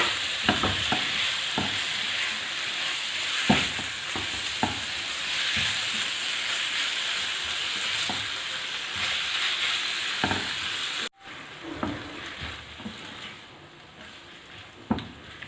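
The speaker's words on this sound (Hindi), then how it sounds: "3-4 मिनट तक इसको पकाएंगे चिकन को" Chicken pieces frying in a pan, a steady close sizzle running throughout with intermittent scraping stirs and taps, the hiss dropping suddenly near the end before the stirring carries on more quietly.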